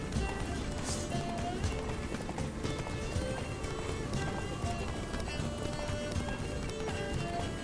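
Hoofbeats of a galloping horse in the video game The Witcher 3 pound in a quick continuous rhythm with a brief whinny, mixed with game ambience and faint background talk.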